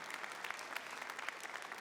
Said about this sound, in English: I thought that might attract some separate applause.